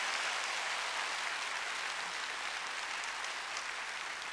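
A congregation clapping at a Wednesday church worship service, a dense continuous wash of applause held at an even level throughout, with no voices standing out.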